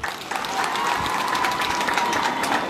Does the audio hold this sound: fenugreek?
no